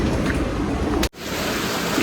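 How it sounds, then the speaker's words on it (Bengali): Steady rain pours down as a dense, even hiss that briefly drops out for an instant midway before continuing, with no talking. "দেখেন কীভাবে বৃষ্টি শুরু হয়েছে"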